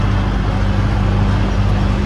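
A motor vehicle engine rumbles close by, a steady low drone with no pauses, as an auto rickshaw pulls up on a street.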